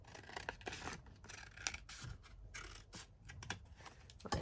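Scissors cutting through master board craft paper: a close, quiet run of crisp snips and rustling paper scrapes in irregular bursts, with no talking.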